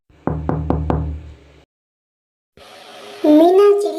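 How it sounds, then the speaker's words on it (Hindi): In a cartoon, a crow knocks at a sparrow's door at night: four quick, sharp raps close up, then a pause before a voice speaks. "रात के वक्त दोबारा कालू कौवे ने मीना चिड़िया का दरवाजा बजाया।"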